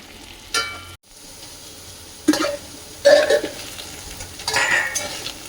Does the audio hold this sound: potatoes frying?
yes